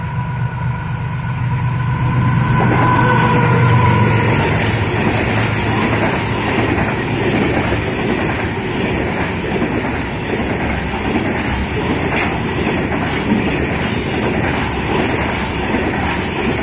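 A loaded coal freight train races past at high speed near Jahania, a continuous heavy roar with rhythmic wheel clatter that stays loud and close throughout.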